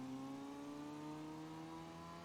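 A Dodge Viper engine in the Gran Turismo racing game, driven in reverse during a license test, holds a steady, even drone with layered harmonic tones for a couple of seconds, without any talk.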